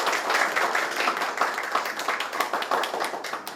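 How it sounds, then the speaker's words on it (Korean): An indoor audience at a Seoul green new deal policy forum claps in welcome for the chairman, a dense, steady patter of many hands that holds throughout at moderate loudness. "의장님 박수로 모시겠습니다."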